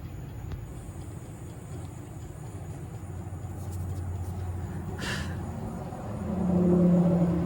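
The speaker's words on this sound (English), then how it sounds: "3-cylinder Kubota." A three-cylinder Kubota D1005 engine runs with a low, steady rumble close by. The rumble swells slightly toward the end.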